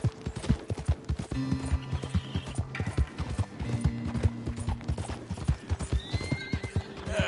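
A horse in Red Dead Redemption 2 gallops with rapid, rhythmic clip-clop hoofbeats close by, mixed with snorts and a whinny, while tack and gear rattle along under the steady pace.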